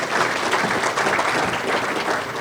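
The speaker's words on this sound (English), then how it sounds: "Let's give Mayor Bowman another big round of applause." A dense, steady round of applause fills a hall at the 2024 Wood Buffalo Sports Connection Awards ceremony, with many hands clapping continuously and evenly throughout.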